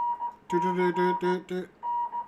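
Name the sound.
Morse code CW beeps on radio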